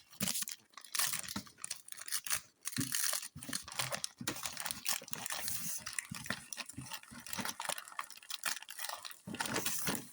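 Crinkling plastic packaging as a pack of stickers is opened: close, continuous rustling and tearing with irregular bursts of crackle throughout, and no talking.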